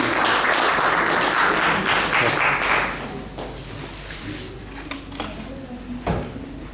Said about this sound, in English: Everybody please give a big round of applause for them.